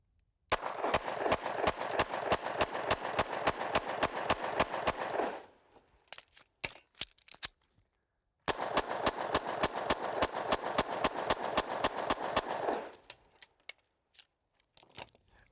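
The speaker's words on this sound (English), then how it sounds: "Let's go ahead and fire some of this through the Glock and see what happens." Glock pistol firing Liberty Civil Defense rounds: two long, steady strings of loud, sharp gunshots in rapid rhythm, each string trailing off into a few scattered shots, with a short silence between.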